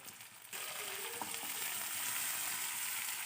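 Green peas and chopped carrot sizzle steadily in hot oil in a pan for poori curry, a close, continuous frying hiss that starts abruptly and carries on alone without talk.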